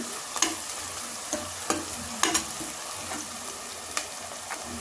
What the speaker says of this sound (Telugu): ఒక రెమ్మ కరివేపాకు వేసుకొని ఇదంతా ద్వారగా వేయించుకోవాలండి